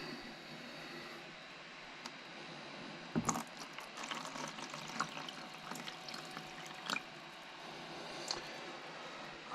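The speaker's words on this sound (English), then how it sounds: "I'm going to fill up these two tubs with salt water from the tank" Salt water from an aquarium tank pours steadily into tubs, a broad rushing splash with a sharper gush near the start and scattered bright droplet spatters throughout, fairly quiet and without talk.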